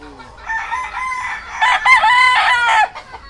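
A rooster from Batangas, Philippines crows loudly nearby, a long drawn-out call repeated in bursts over a few seconds with no other sounds.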